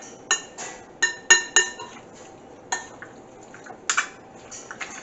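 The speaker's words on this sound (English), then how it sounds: "So we're using a spoon to get it all mixed together." A spoon clinks against a bowl while stirring Guyanese garlic pork, giving a series of sharp, bright clinks in irregular bunches with quieter scraping between them, close and clear without talk.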